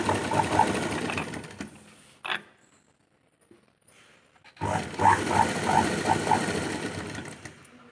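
A sewing machine stitches a seam in two close, loud bursts with a quiet pause between them, joined by a short mechanical clunk and light creaks.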